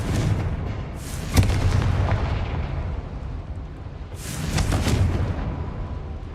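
A Confringo fire spell detonates in the Hogwarts Legacy video game, giving loud, rumbling booms. Two main explosive bursts, one early and one later, each roll out into a long low roar.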